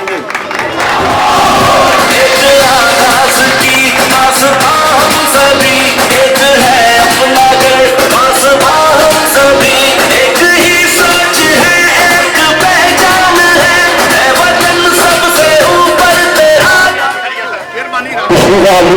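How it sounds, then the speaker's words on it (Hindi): A large crowd at an outdoor Pakistani Independence Day celebration claps and cheers loudly and continuously for about seventeen seconds before tapering off, with music and voices mixed into the dense roar. "जनाब सलामत अली साहब को वीडियो पेश करते हुए क्लैपिंग चाहिए।"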